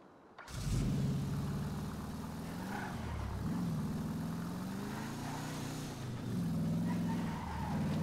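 A hotwired car in a video game cranks to life and runs, its engine rising to a steady mid-pitched drone with a couple of revving swells, loud and continuous from start to finish.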